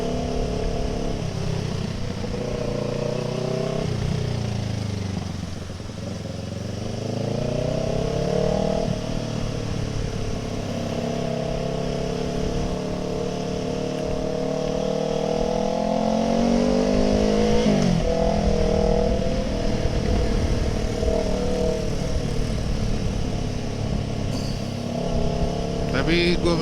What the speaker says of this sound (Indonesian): gue minta maaf kalau suara knalpot gue jadinya agak berisik ya